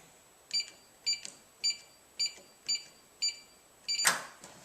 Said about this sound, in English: If the yellow light flashes with 2 buzzer beeps, successful setting.